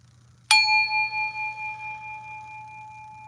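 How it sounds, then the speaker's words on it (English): A single metal bell struck once, a sharp attack that blooms into a long, pure ringing tone with gentle pulsing beats, slowly fading over several seconds above a faint low hum, no voices. "I love that full belly bell sound"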